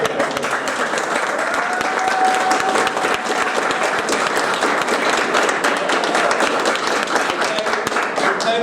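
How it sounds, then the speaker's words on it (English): Sustained audience applause at a Green Party presidential candidate forum, a dense, steady wash of clapping at even loudness throughout. "So can we give a round of applause to all of the"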